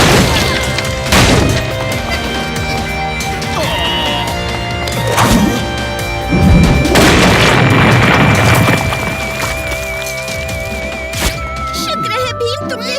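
A big cartoon explosion booms several times in an animated adventure, loud crashing blasts and thuds layered over music and effects.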